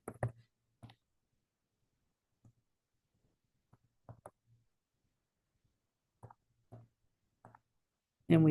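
Calculator keys tapped in short, sparse clicks, single presses spread irregularly with quiet gaps between, close and faint.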